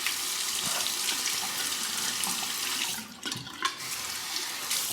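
Running tap water splashing while a razor blade is rinsed during a shave, a steady close hiss of flowing water with a brief interruption near the end, no talking.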